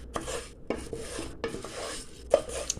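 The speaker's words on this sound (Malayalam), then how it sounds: "ഇളക്കി നല്ലോണം ഒന്ന് ചൂടാക്കുക" A spoon scrapes and clatters against a pan while something is stirred and roasted for Kerala pradhaman payasam, intermittent close knocks and rasps with a faint sizzle, no talking.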